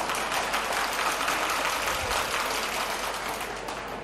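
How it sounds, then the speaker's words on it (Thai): A dense, steady wash of applause from a large crowd at a Thai political rally press event, holding at an even loudness for the whole stretch with no voices rising above it. "ก็อยากให้พี่น้องปรบมือให้กำลังใจพี่น้องภาคกลางนะ"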